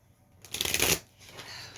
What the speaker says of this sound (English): I actually shuffled these cards quite a bit already